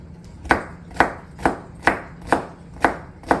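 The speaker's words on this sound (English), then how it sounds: "We're gonna chop it in little chunks." An apple being chopped into little chunks on a cutting board, seven sharp, evenly spaced knife strikes about half a second apart, close and loud with no voices.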